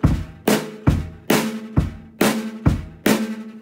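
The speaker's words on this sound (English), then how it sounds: "So a backbeat of a song sounds a bit like this." Rock backbeat played on a drum kit, bass drum alternating with snare in a steady pattern, eight loud punchy hits over under four seconds, close and alone with no talking.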